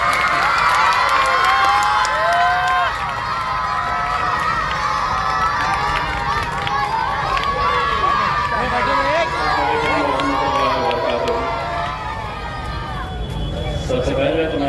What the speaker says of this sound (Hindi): जनाब इम्तियाज साहब जोरदार तालियों से इस्तकबाल कीजिए।